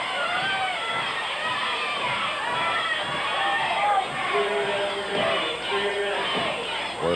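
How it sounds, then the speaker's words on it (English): A split pro wrestling crowd in Portland roars and yells continuously from a distance, a dense wash of arena voices with no individual chant clearly standing out. "Crowd is kind of split, so you hear a yell of "we want," and then it's multiple choice from that point on"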